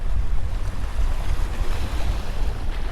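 Strong wind roars across the microphone at Seawolf Park, a waterfront fishing spot at night, in a dense, constant rumble of gusts with waves washing underneath and no talk.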